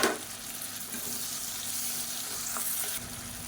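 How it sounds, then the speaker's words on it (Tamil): Onions and tomatoes frying in a pan for an egg biryani masala, a steady close sizzle that runs unbroken throughout with a few faint stirring clicks. "வெங்காயம் நல்லா வதங்கட்டும்."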